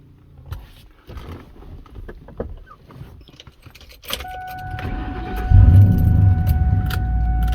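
A car engine cranks and fires up after some keys jangle, then settles into a steady low idle with a chime tone ringing over it.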